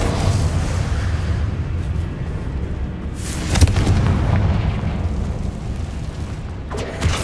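Confringo fire spell blasts in the Hogwarts Legacy video game: continuous dense rumbling booms with a sharp burst near the middle and another crackling hit at the end, loud and sustained with no talking.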